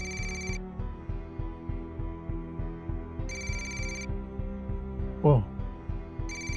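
A telephone rings in repeated bursts, each electronic trill separated by pauses, over a steady rhythmic pulsing hum in an emergency ward setting; a brief voice exclamation cuts in near the end.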